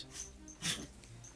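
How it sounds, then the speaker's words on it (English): Dogs give a few short, close snorts and wheezy breaths, with one louder snort in the middle of a brief quiet stretch. "Making funny noises, dogs."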